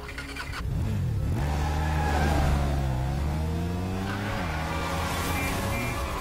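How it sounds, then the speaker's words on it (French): A motorcycle rides through city streets, its engine loud and close, revving up and holding a steady drone with pitch rising and falling as it accelerates. "Normal, c'est comme ça qu'on fait de la moto en ville."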